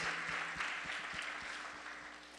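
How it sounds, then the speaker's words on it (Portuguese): A church congregation applauds during a Portuguese-language worship service, a steady wash of clapping that is fairly quiet and fades slightly over a couple of seconds, with a low hum underneath. "Dá um aplauso forte ao Senhor."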